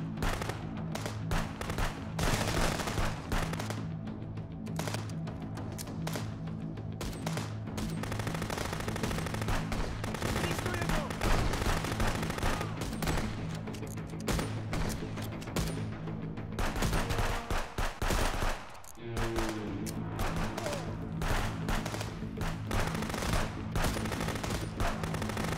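Rapid bursts of gunfire in the video game Contraband Police crackle almost nonstop, automatic fire repeating loudly with only brief pauses.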